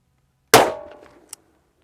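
A single loud, sharp shot from a .357 Magnum revolver firing 300-MP powder behind a 170-grain bullet cracks out alone and decays quickly, followed by a small metallic click.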